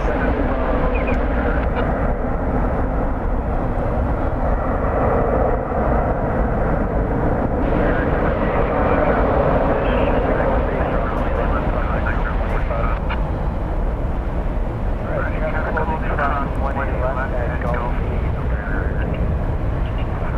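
A jet airliner roars at DFW Airport at night, a continuous broad engine rumble that holds steady over the whole stretch, with a person talking intermittently beneath it.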